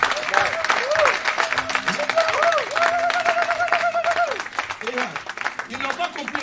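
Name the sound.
congregation applauding to acclaim the Lord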